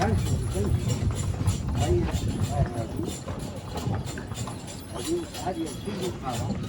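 Horse-drawn carriage ride through Meknes, with rhythmic hoof clip-clops on pavement and a rattling vehicle, heard close and steady beneath almost continuous conversation.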